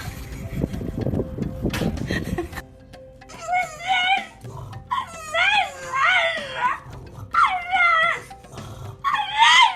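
A husky startled by a jump scare lets out a string of whiny, yodeling howls and yips in repeated close bursts, following a loud rustling scuffle at the start, with a person talking alongside.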